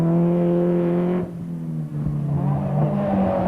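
A Renault Clio Group N rally car runs on a stage of the 2002 Rallye International du Valais, its engine holding a strong steady note, then dropping off sharply as it passes and fades into a rougher, lower drone. No one speaks.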